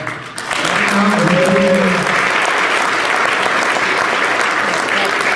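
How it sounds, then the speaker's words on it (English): Sustained audience applause at a martial arts hall of fame induction ceremony, dense and loud clapping filling the room throughout, with a voice briefly audible beneath it near the start. "please give a big round of applause for this warrior"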